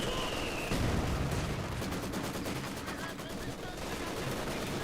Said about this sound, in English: MG42 does suppress and pins down the Pathfinders